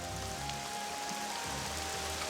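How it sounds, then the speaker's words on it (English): Dense, steady patter of heavy rainfall in the video game Caesar IV, continuous hiss with no pauses, accompanied by a faint low hum in the background. "it's raining really heavy now"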